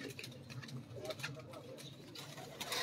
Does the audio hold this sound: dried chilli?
no